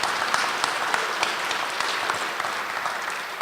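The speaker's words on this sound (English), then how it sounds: "Let us give him another round of applause." An audience at a Stand Against Racism event applauds a student's essay with a steady, even round of clapping from many hands, moderately distant and without talk.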